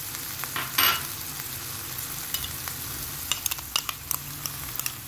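Capsicum, ginger and soy sauce for chicken chilli stir-fry in a hot pan, producing a steady sizzle and hiss with scattered crackles and the occasional scrape or clink of a utensil, with no voices.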